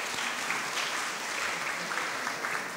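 Audience applause for contestants at a school group-singing competition, steady dense clapping from a crowd, fairly distant and even throughout with little talk.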